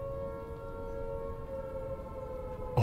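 A steady, droning civil-defense style siren wails in a first-person fan remake of Silent Hill, a sustained tonal hum over low rumbling ambience, with a sudden thump at the very end.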